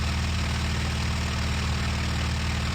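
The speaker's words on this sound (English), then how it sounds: "My engine's not doing too good either." Aircraft engine in the IL-2 Sturmovik 1946 flight game, flying a US Navy fighter with an ailing engine, giving a steady, dense droning roar that holds unchanged throughout with no talk.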